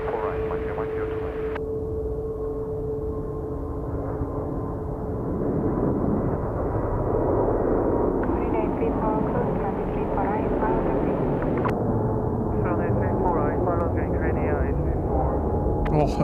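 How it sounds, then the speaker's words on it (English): An Airbus A321neo airliner takes off at Seoul Incheon airport, a broad steady roar of jet engines heard under ongoing talk and radio chatter. "Asian A321 Neo, off they go."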